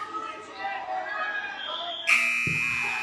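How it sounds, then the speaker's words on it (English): A loud, sustained buzzer blares and holds steady at the end of a wrestling match after a commentator's excited talk, with crowd noise underneath. "The buzzer beater for Matthew Vogel turns that one around"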